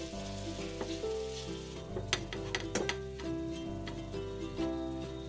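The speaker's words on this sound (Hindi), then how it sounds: "और 2 मिनट तक इसे भी हम भून लेंगे।" Mawa (khoya) roasting in a pan for moong dal halwa, a continuous close sizzle with scraping stirring strokes and occasional ticks of a spoon against the pan, under soft background music.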